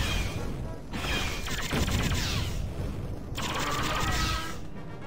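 Turrets firing in the first-person shooter Duke Forces, two long stretches of rapid, dense gunfire rattling over a loud mechanical din, with a brief lull between bursts.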